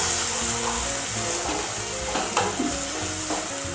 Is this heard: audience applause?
no